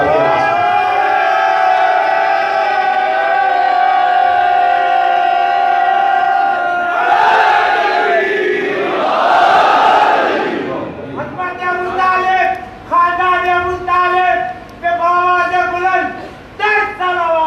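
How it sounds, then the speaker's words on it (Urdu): A large crowd at a religious gathering raises a loud, collective chant, a roaring surge of many voices that swells and then breaks into rhythmic shouted bursts, heard close and filling the space. "نعرہ لگائیے تو یا تو رخصت لینے نعرے کی, یا ایسے لگائے نعرہ کہ شاہ نجف کے دربار تک آپ کے پاس"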